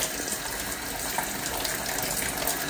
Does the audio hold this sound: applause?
no